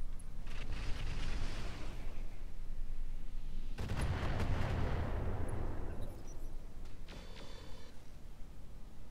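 Turrets fire in the Roguetech mech combat game, a rolling barrage of heavy booming shots with a large blast near the middle that fades into scattered rattling bursts.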